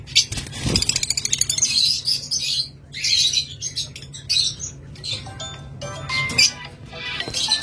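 Budgerigar-like chirps and squawks from a pair of blue opaline pet birds, male and female, come in repeated bright bursts close by, with a steady low hum underneath.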